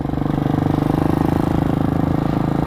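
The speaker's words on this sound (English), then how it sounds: "I was told that the valves are" A 2020 Hawk 250 Enduro motorcycle engine runs close up with a rapid, even chugging pulse and a loud ticking valve clatter over the steady exhaust rumble.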